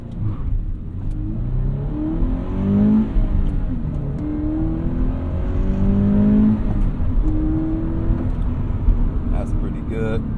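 A Toyota 86 accelerating from a standstill, its engine revving upward through rising pitch sweeps with brief dips at gear changes, steady and fairly loud from inside the car, with a voice talking over it.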